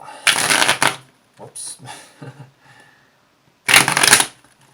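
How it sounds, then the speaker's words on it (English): Tarot cards shuffled by hand in two loud bursts of riffling, separated by softer shuffling and handling noises, close up, with a brief spoken exclamation in between. "And next, we'll shuffle them this way."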